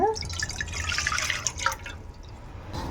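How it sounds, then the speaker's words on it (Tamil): Water is poured into a cooking pan on a home stove for a sweet macaroni pasta kheer, giving bright trickling and dripping splashes that fade after about two seconds, with no talk. "ஒரு பேனில் வந்து தண்ணி ஆட் பண்ணிக்கோங்க"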